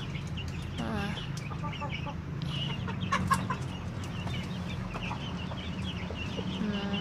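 Bangkok fighting chickens and roosters cluck in a steady scattered chatter around a coop, with a low hum underneath and a few short calls rising near the middle.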